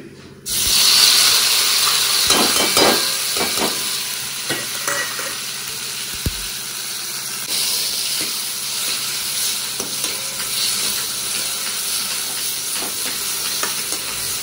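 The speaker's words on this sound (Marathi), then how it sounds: "इथं टोमॅटो कापून ठेवलेले आहेत मी तर आता ते फोडणीत घालायचे" Chopped tomatoes frying in a cumin tempering, a continuous close sizzle with repeated scraping stir strokes of a spoon against the pan, loud and steady with no talking.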